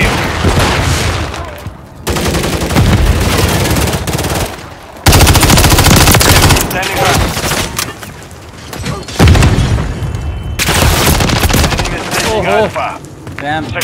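Heavy automatic gunfire from a Call of Duty Modern Warfare III multiplayer match, dense rapid bursts with loud booms, continuing almost without pause under occasional voices.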